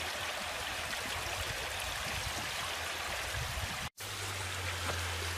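River flowing beside a grassy wild camp spot in Bowland, a faint, steady wash of running water throughout with a brief dropout near the end and a low hum after it.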